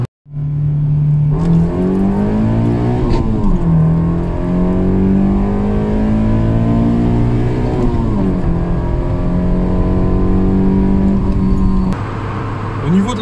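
A Honda Civic EC9 engine drones steadily and loudly, its pitch climbing and dipping through gear changes as it accelerates, with no clear talk over it.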